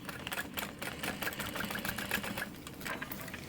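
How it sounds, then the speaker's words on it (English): A sewing machine back stitches over a bag flap, its rapid needle chatter running steadily and fairly quietly close by, with no voices. "So I back stitch over that, and then I kind of try to top stitch also through the flap below"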